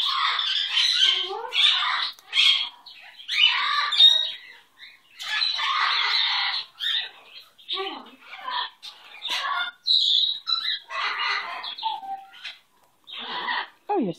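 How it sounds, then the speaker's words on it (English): Dukie, a pet bird, squawks and chirps in quick bursts and bright, sharp calls, close up and insistent across the whole stretch, with short pauses between clusters. "What an amazing bird you are"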